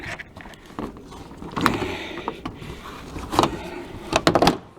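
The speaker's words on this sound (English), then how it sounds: "You get the door, start to swing." Rear door of an Astro van being worked open, with scattered clunks, latch clicks and scraping metal knocks at close range, uneven and sporadic against quiet background.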